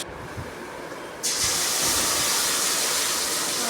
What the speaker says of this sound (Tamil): அதோட சேர்த்துருங்க அதோடு சேர்த்து அதையும் இந்த வெங்காயத்தோடையும் நல்லா வதக்குங்க